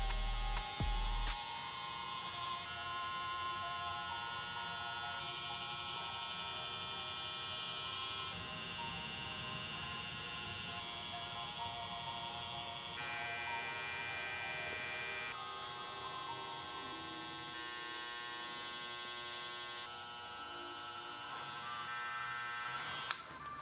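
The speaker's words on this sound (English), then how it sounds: "now that I'm done lining up everything with my trimmers" Hair trimmer buzzing steadily while a barber lines up a client's facial hair, a continuous electric hum that shifts slightly in pitch as the blade moves across the skin, with no talking.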